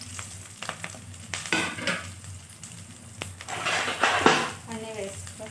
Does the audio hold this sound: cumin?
yes